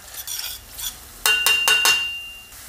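Tomato paste fries in a pan for pastırmalı kuru fasulye, a soft sizzle broken by a quick run of sharp utensil scrapes and clinks against the pan near the middle.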